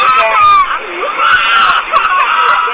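A child screaming aboard a school bus as a man attacks the driver, loud shrill cries and wails close by, with other voices and commotion mixed in.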